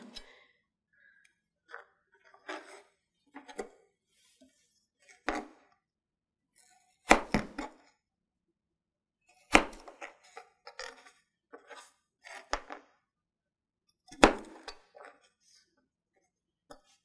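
Kitchen knife chopping potatoes into 4 cm pieces on a cutting board, a few sharp, well-spaced knocks and clicks at an uneven pace, close and fairly quiet with silence between strokes.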